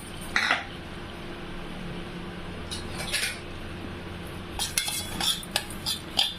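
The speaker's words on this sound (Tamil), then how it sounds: "ரவை போட்டு அப்படியே நம்ம கலரிக்கலாம்." Metal utensil scraping and clinking against a pan in short bursts while roasting semolina in ghee for rava payasam, with a low steady background hum and no talking.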